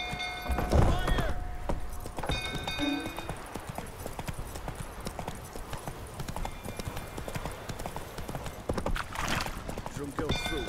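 A horse gallops in The Witcher 3, its hooves clip-clopping in a steady rhythm with a brief neigh early on, under game voices speaking.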